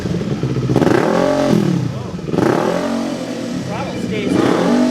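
A Kawasaki Ninja 400 motorcycle with a cheap aftermarket exhaust revs repeatedly up close, each loud rise swelling and falling back in a throaty roar while someone speaks over it.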